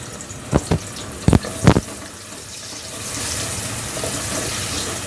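Chopped onion and whole cumin seeds drop into hot oil in a home kitchen, giving a few sharp splashing bursts early on before settling into a steady, soft sizzle.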